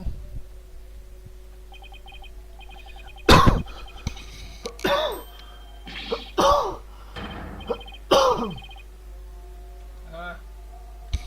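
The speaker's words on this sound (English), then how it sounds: "Accidentally cough." Several short coughs and throat-clearing bursts come one after another over a quiet background, fairly close.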